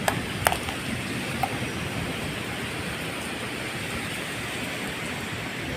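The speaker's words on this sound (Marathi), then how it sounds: "हा बघा कोकणाचा पाऊस कसं जोरात पडतो" Heavy monsoon rain pours down in Konkan, driven by wind, a dense constant roar with no voices, broken early by a few sharp clicks or knocks.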